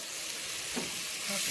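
Mushrooms sizzle in a sauce reducing toward a dark gravy in a pan, with a soft stir around the middle; steady frying hiss close by, no talking.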